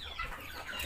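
Chickens clucking at feeding time in a village yard, a brief, soft run of low clucks and fowl calls with no talk over them.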